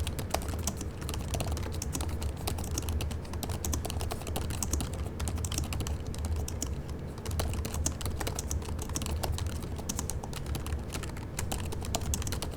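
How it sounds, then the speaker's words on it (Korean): Steady, rapid typing on a low-profile pantograph keyboard of a Razer Blade 15 2023 laptop, soft clicks running continuously without pause, close up and fairly quiet. "키보드는 스트로크가 낮은 일반적인 펜타그래프 키보드입니다."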